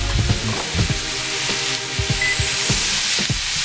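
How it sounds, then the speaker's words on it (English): Scallions, Scotch bonnet pepper and garlic sizzling in hot oil in a pan for Jamaican ackee and saltfish, a steady loud fry with clacks of stirring scattered through. "now it's time to start sauteing our vegetables"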